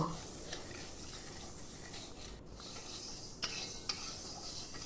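Moong dal is dry-fried in a hot wok and stirred, giving a faint, continuous rustling sizzle with a couple of brief clinks from the utensil near the end.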